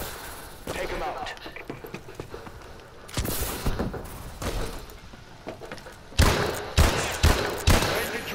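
Call of Duty: Advanced Warfare team deathmatch gunfire, with rapid bursts and sharp shots, then heavier thudding blasts in the latter half, loud and close, under intermittent talk.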